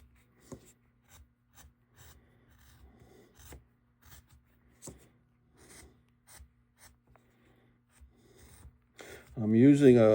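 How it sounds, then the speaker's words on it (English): Hand carving of feather texture into a wooden cedar waxwing bird with a number 7 gouge gives soft, faint scraping strokes in an irregular rhythm, ending in a brief louder voice. "I'm using a number 7 gouge, and that gives me just the right depth that I need to get the texture that I'm looking for."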